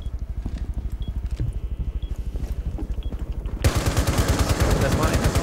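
Rapid automatic gunfire in Rainbow Six Siege on the Border map, fired down through a floor at enemies below, a steady stream of shots that turns louder and harsher partway through as the burst continues.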